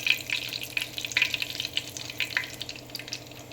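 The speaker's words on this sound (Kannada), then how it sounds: "ಆಯಿಲು ಚೆನ್ನಾಗಿ ಕಾದಿರೋಂಥ ಆಯಿಲ್ಗೆ ನಾನು ಚಕ್ರ ಮೊಗ್ಗು ಮತ್ತು ಲವಂಗನ ಹಾಕ್ತೀನಿ." Star anise, cloves and a bay leaf crackle and sizzle in hot oil for a biryani base, a close, steady frying hiss with small sharp pops scattered throughout.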